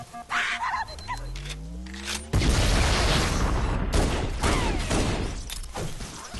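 A grenade blast followed by bursts of gunfire in the Halo CE Anniversary video game. A rising whine swells into a loud explosive burst, then rattling shots and crashes continue close by, with only brief talk.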